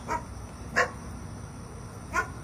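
A dog barks three times, short sharp barks spaced apart over steady background noise, moderately close.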